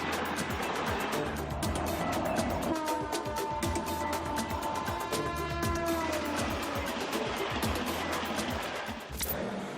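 Howrah to Delhi special express train running, a continuous loud rumble of wheels and carriage noise with sustained horn-like tones in the middle, steady throughout.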